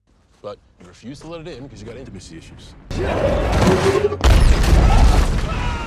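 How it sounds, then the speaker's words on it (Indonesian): A voice speaks briefly, then a loud rumbling meteor explosion erupts in a Transformers film, followed by a second, heavier blast that leaves a sustained roar. "Akibat ledakan meteor itu, Danny terluka dan Jack minta bantuan medis."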